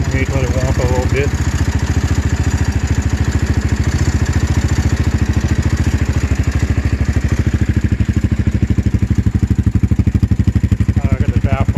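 A Venom X22R 250 single-cylinder dirt bike engine idles with a steady, rapid putter through a baffled exhaust, close and loud, while someone talks over it now and then.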